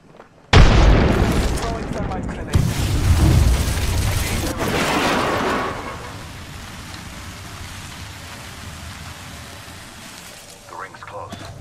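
A frag grenade bursts in the video game Apex Legends, a sudden loud boom followed by a crackling, rain-like wash of debris that fades over several seconds, with game voice lines around it.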